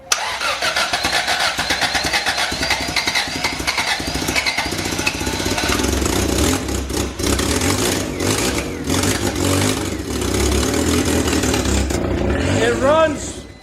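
A car engine cranks and catches, then runs roughly with uneven, sputtering revs and rattles, close by and loud, while people talk over it.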